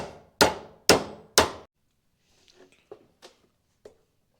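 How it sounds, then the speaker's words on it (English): A copper pipe end hammered flat: three loud, ringing metal blows about half a second apart, each decaying quickly, followed by a few faint light taps and knocks. "smash one end flat,"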